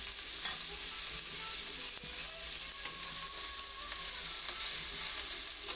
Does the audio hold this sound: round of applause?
no